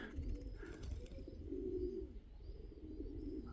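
Soft, low cooing of a pigeon repeats faintly nearby against a quiet background hum.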